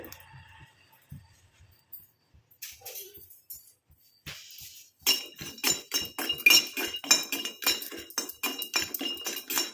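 A series of light metallic clinks and taps as gooseberries are added to an iron pan, sparse at first and then quick and rhythmic, close by.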